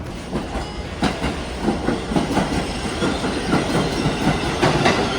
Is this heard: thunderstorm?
no